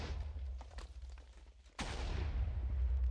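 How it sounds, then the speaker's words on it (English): TNT cannon fire lands in a Minecraft Race For Wool match: faint scattered pops, then one sudden sharp blast followed by a loud sustained rumble of explosions. "More cannon fire coming across."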